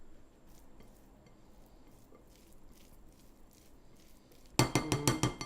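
A spoon clinks and scrapes in a bowl while vegan tuna salad is stirred with yogurt: quiet room hush first, then a short burst of rapid, bright knocks near the end.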